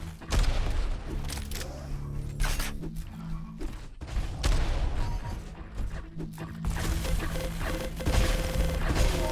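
In a Quake duel, a lightning gun buzzes and rockets boom in dense, overlapping salvos of sharp blasts and crashes, with a droning hum between the hits.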